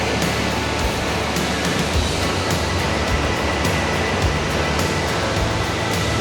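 Heavy rushing water at a resort in Majayjay, Laguna, a loud, continuous broadband roar close by, steady and unbroken without any voices.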